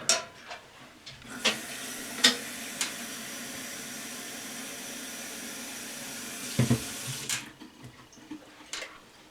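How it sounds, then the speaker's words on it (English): Tap water runs steadily into a plastic bottle while a homemade hand sanitizer is mixed. A soft, even hiss of pouring water lasts several seconds between a few faint knocks and clicks, quiet and nearby. "I'm going to fill the rest of the bottle up with water"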